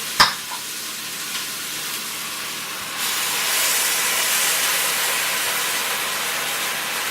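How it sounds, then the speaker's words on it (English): Onions and garlic sautéing in an Instant Pot give a steady, close hiss and sizzle, with a sharp clink at the start and the sizzle growing louder and brighter partway through. "The onions and garlic have been sautéing for a few minutes."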